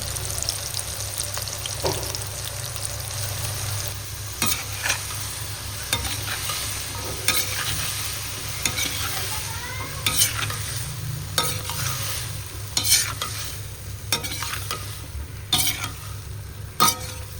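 Vegetables frying and sizzling in hot oil in a kadai, with steady crackle throughout and repeated stirring scrapes and clinks of a utensil against the pan, close and moderately loud, no talking.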